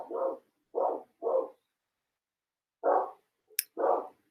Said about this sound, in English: Sorry for my dogs barking in the distance.